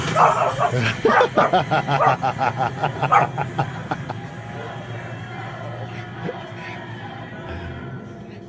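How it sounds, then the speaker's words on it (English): A dog watching the horror film It Chapter Two barks and yips rapidly during a tense countdown scene, a quick rhythmic burst of close barks that tapers off into softer whimpering under steady background noise. "This dog was locked on watching the movie It 2 with her owner, and when Pennywise starts counting down to 3, this is what happened"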